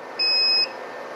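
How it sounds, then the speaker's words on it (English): A power inverter running off a 12-volt 100Ah LiFePO4 battery under heavy load at low voltage gives a single clear, high-pitched warning beep lasting about half a second over a steady background hiss. "Inverter's beeping because we only got"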